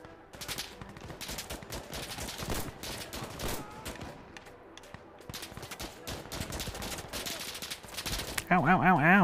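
Insurgency Sandstorm firefight with sharp gunshots and machine-gun bursts cracking in irregular clusters, some close and loud, others more distant, while players talk over the shooting.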